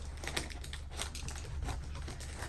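A blade scores and slices open a package holding auctioned Eaglemoss Lord of the Rings figurines, heard as close, continuous scratchy cutting and crinkling strokes with no talk.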